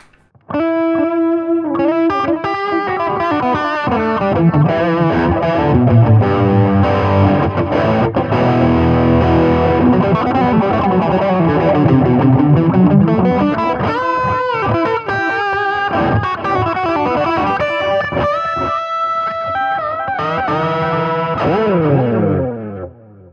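Distorted electric guitar plays an over-the-top 80s-style solo through an affordable delay pedal set with feedback, with dense repeating echoes and chorus-like shimmer, loud and continuous throughout with no talking.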